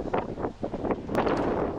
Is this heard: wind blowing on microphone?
yes